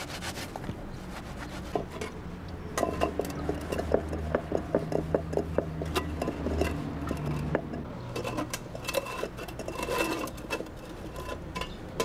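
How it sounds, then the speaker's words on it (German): A coppersmith rubs rinsed metal workpieces dry with sawdust after cleaning them with hydrochloric acid. Close, steady scratchy rubbing strokes repeat in a brisk rhythm, with no talking. "Zum Absäuern gehört auch, die Werkstücke abzuspülen und anschließend mit Sägemehl trocken zu reiben."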